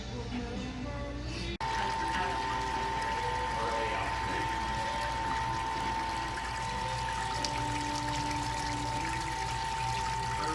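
Wort pours steadily into a bucket on a pilot brewing system, a continuous close liquid rush over a low mechanical hum, starting after a short quieter moment.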